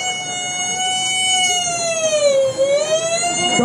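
A wailing ambulance siren with a rising and falling tone, loud and close, sweeping continuously with slight wavering in pitch.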